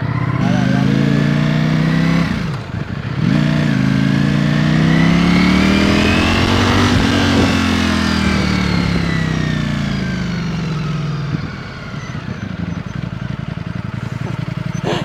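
A Ducati Streetfighter motorcycle engine revs up and down close by, climbing and falling in pitch several times with a strong, steady roar throughout.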